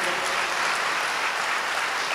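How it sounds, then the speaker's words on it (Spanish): Congregation applauds volunteers at a church service, a steady dense wash of clapping from a large crowd, even and sustained throughout. "Un aplauso para todos los voluntarios que fueron"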